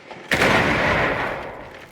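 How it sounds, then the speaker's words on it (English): A frag grenade detonates in Rainbow Six Siege, a single loud close blast with a sharp onset that rolls into a long, fading roar, with no talk over it. "Tossing frag grenade!"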